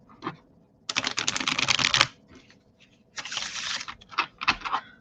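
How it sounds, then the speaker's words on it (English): Cards riffle-shuffled in two main bursts of dense, crisp flutter, with a few shorter card snaps around them; close and fairly loud, no talking. "let's give it another shuffle"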